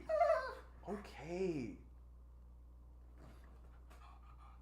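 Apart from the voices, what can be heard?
dog whimpering and panting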